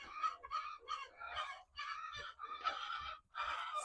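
Chickens inside a poultry house give a steady run of close, loud clucks and squawks, bursts that overlap with short gaps between them and no voices over them.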